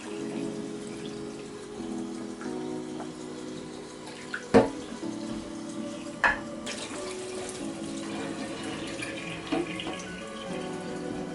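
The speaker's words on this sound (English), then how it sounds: "act like you're bathing it, just keep on rinsing it off" Tap water runs steadily into a sink while a whole leg of lamb is rinsed under it, with a couple of clear knocks and thuds as the meat is handled.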